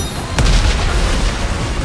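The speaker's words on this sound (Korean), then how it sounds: "오, 뭐야, 수류탄" A grenade goes off in the video game Atlas with one sudden loud blast that rolls into a dense, noisy rumble and lingers for the rest of the moment.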